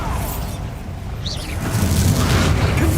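A Bombarda spell explosion in Hogwarts Legacy gameplay: a low rumbling boom swells and holds loud through the second half, with a brief whooshing sweep in the middle.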